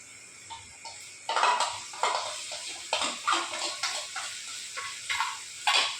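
Spiced yogurt paste with turmeric, chili powder and coriander powder being stirred into a cooking pot, giving a run of repeated wet scraping and clinking strokes in a steady rhythm, close by with no talk.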